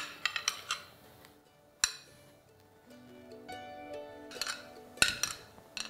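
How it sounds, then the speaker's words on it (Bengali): Chopped onion, tomato and cucumber tipped into a bowl, giving scattered clinks and knocks of utensil on dish, a few sharp taps standing out against a quiet kitchen background. "এবার এই পেঁয়াজ, টমেটো আর শসাটাকে আপনাদের প্রথমে বোলের মধ্যে নিয়ে নিতে হবে।"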